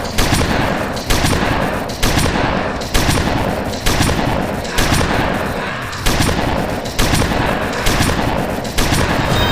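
A minigun turret in the Roblox game Zombie Arena fires in rapid continuous bursts, a loud dense rattle of gunfire repeating in roughly one-second surges with no talking over it.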